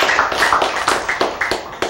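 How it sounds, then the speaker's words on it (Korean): Scattered hand claps from a small group, several short sharp slaps spread unevenly over two seconds with no voices on top. "박수."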